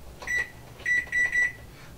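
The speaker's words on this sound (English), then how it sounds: "and then we set the timer" Digital kitchen timer being set while brewing beer at home, one short electronic beep followed by a quick run of three more, crisp and close against quiet background noise.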